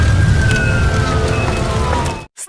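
An ambulance siren wails as a slowly falling tone over a dense, rain-like wash of noise, then cuts off suddenly near the end.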